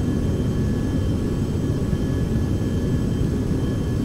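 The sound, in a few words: Carenado 390 Premiere aircraft in flight, Prepar3D video game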